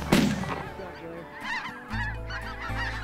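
A loud close bang opens during a goose hunt, followed by a flock of geese honking in quick, overlapping calls over a low steady hum.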